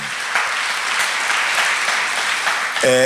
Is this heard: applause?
yes